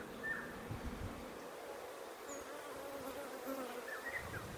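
Honeybees at a hive frame give off a soft, steady drone of many wings, faint and continuous without pauses. Nobody talks.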